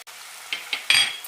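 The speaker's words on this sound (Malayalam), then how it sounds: "പൊടികളുടെ പച്ചമണം പോകുന്നവരെ വഴറ്റാം" Spice powders (chilli, garam masala, pepper, coriander) stirred and sautéed in a pan for a chickpea masala, with a few short scraping strokes and a soft sizzle, close by.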